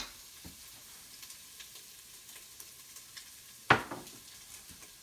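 Vegetables for a Southern cabbage dish sizzle softly in an Instant Pot as they are stirred, giving a low, steady hiss with one sharp utensil knock partway through.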